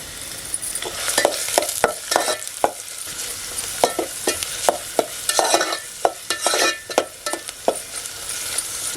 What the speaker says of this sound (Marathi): कांदा मस्त परतलाय तेलामध्ये